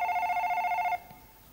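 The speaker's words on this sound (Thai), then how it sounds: "นี่นี่โทรศัพท์นะไม่ใช่เครื่องช็อตปลาคุณบรรเจิด" A telephone rings with a bright electronic warble pulsing in quick, even bursts for about a second before cutting off, leaving faint room noise.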